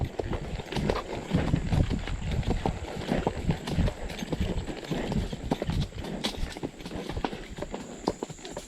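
Hooves of a ridden five-year-old horse clip-clop in a quick, energetic rhythm on an afternoon ride with rain, close and steady throughout, with faint background noise.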